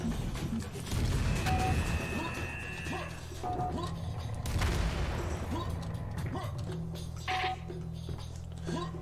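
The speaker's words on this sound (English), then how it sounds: "Machine gun." Machine gun fire in Star Wars Battlefront 2 multiplayer, bursts of rapid shots and crashes over layered game noise and tones, fairly loud and continuous, with no talk.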